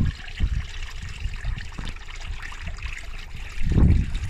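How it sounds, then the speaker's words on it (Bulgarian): Water splashes and trickles from an old marble village fountain, steady and close, with wind gusting around it and a louder gush near the end. "Ето я селската чешма. Абе, верни му вода."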